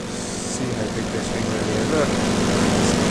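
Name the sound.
large-scale RC airplane flying low in the RealFlight 7 simulator game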